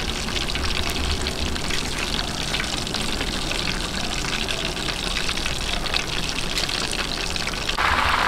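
Dense, loud, continuous crackling sizzle of butterfly-cut chicken frying in hot oil, steady throughout with bubbling pops and no talk.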